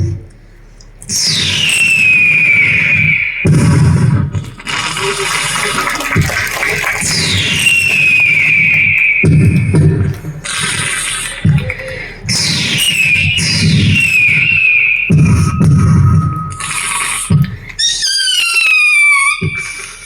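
A voice imitates festival fireworks: rising whistles followed by bursts of crackling booms, repeated several times in loud, close succession.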